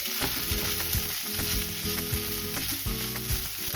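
Spätzle fry in a pan with butter and onions, sizzling loudly and steadily up close, with repeated scraping and stirring clatter from the utensil throughout.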